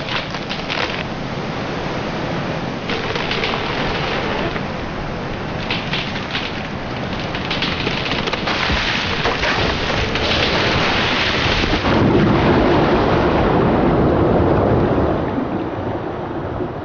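A late-winter storm by coastal woods, with heavy rain hissing steadily and rumbles of thunder rolling underneath, loud and dense throughout and swelling toward the end, with no voices.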